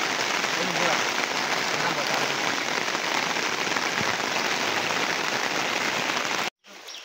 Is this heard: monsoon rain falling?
yes